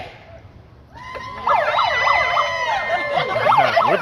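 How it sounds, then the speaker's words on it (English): Police sirens start up and wail in rising and falling sweeps, several overlapping, loud and fairly close, at a street rally in downtown Portland. "With the siren."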